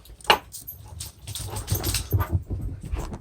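Dogs misbehaving indoors in a room, giving a sharp close yelp followed by restless whimpering, shuffling and low grumbling noises, moderately loud, with no talking.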